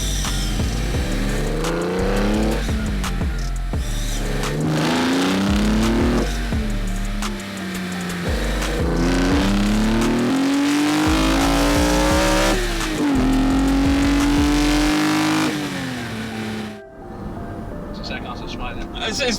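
A manual BMW E46 M3 straight-six revs hard through repeated climbing pulls, rising in pitch then dropping at each gear change, loud and close inside the car while occupants talk over it.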